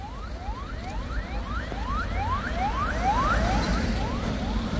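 An ambulance siren wails in a rapid repeating rising sweep as it moves along a hill road, moderately loud and drawing nearer, over the low rumble of traffic and engines, with no talking.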